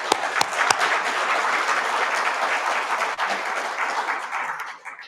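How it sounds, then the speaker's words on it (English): Sustained, steady applause from a conference audience fills the room, loud and even throughout with a few sharper claps standing out near the start. "So another round of applause,"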